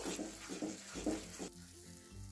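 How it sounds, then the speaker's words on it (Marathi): Amaranth (rajgira) shira is stirred with sugar in a pan, with soft rhythmic scraping strokes over a faint sizzle, close and fairly quiet, easing off toward the end. "इथे साखर सुद्धा आपल्याला छान अशी मिक्स करून घ्यायची आहे।"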